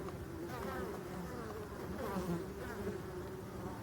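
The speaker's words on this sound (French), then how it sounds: "Donc c'est l'abeille noire, bah, elle travaille tout le temps." Black honeybees buzzing at a forest hive in autumn, with pollen still coming in: a steady, close, droning hum of many bees, constant throughout with slight swells, no talk.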